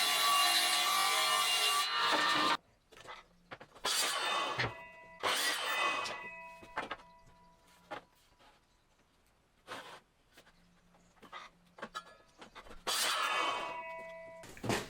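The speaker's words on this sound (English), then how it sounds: "I'm going to run them through the table saw" A table saw rips small wooden pieces for cupboard doors: a loud, steady run of cutting noise at the start, then a series of shorter rasping bursts separated by quiet gaps.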